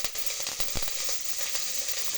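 Curry leaves hitting hot oil tempered with mustard and fenugreek, a close, hissing sizzle with quick crackles and a few sharp pops near the middle, with no voice.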